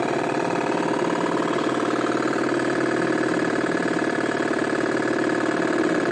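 A car engine in a ZX Spectrum racing game drones on as a continuous buzzy electronic tone, steady and fairly loud, with a fast ticking texture and no talk over it.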